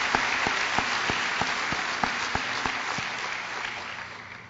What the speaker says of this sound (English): we could give them another round of applause.